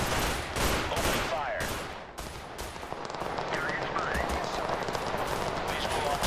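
Rapid gunfire in the video game Total Conflict: Resistance: loud bursts of automatic fire and repeated shots rattle throughout, with a person talking over the shooting.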